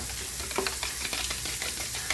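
Eggs, three whole and one yolk among them, beaten by hand in a bowl, giving a steady run of quick light clicks and scrapes close to the mic, with no talking.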